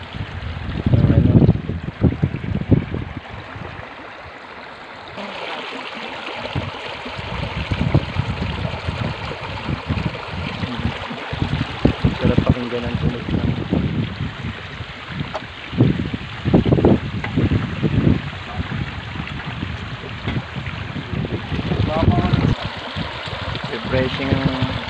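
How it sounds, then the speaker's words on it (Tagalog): A river flows and splashes steadily over stones, loud and close, with a person speaking intermittently over it. "Refreshing ang tunog ng tubig."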